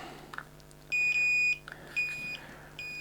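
A battery voltage checker on a brushless RC car, a Kraton 4S or 6S, emits three sharp high-pitched beeps, each lasting about half a second, with a few small clicks between them.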